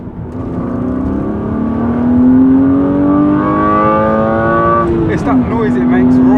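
BMW 328i E36 straight-six with a K&N air filter revs up hard, its rising harmonic whine climbing steadily toward the top end before dropping sharply and settling into a steady drone, loud and close.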